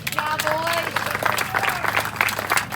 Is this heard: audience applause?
yes